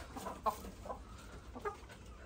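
Chickens on a small farm with rabbits give a few short, moderately close clucks at irregular intervals over a steady outdoor background, with no talking.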